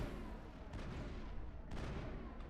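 Grenade explosions in Mass Effect: a run of muffled, distant blasts and gunfire-like thumps, with sharper bursts near the start and again toward the end.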